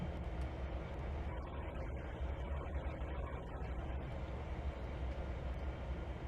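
A train rolls steadily through the rail yard in Trainz 2022, a continuous low rumble of wheels and engine holding at a constant level with no talk over it.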